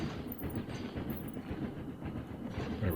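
A train rolls on rails in Planet Coaster, a continuous rumbling clatter at moderate volume with no voices.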